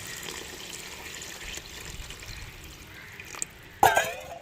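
Tamarind water being poured into a simmering fish curry, a soft steady trickle of liquid that ends in a brief splashing pour near the end, close up with no talking.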